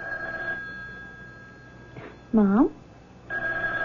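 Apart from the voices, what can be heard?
telephone ringing in a radio drama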